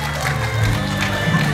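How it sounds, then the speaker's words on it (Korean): An audience at a belly dance competition's awards ceremony gives a short burst of applause amid crowd noise, with voices talking over it. "여러분 협찬 박수 부탁드리겠습니다"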